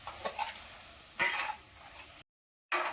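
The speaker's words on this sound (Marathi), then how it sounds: "याच कढईमध्ये तेल ओतून हा बारीक केलेला मसाला टाकून घेऊ।" Ground masala frying and being stirred in hot oil in a kadai, with a steady close sizzle and bursts of scraping and stirring, then a brief silent gap before the frying noise resumes.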